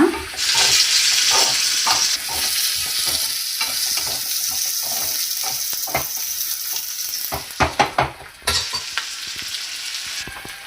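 Onions and leafy vegetable curry ingredients frying in a pan until brown, a loud, close sizzle with stirring scrapes, ending in a few sharp clatters and a fading hiss.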